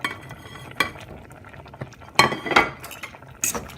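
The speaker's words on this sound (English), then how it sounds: "Give that a stir around." Beef steak stew with broccoli stirred in a pot, giving a few scattered scrapes and clinks of a utensil against metal, with louder bursts near the end and no talking.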